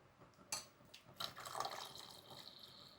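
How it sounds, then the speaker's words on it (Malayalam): Tender coconut water is poured into a cooking pot on a gas stove, giving a faint trickle with a few sharp splashes and clinks. The sounds are quiet and close, with no voices. "നമുക്കിതിലേക്ക് ആ കരിക്കിൻ്റെ ഒന്ന് ഒഴിക്കണം കേട്ടോ."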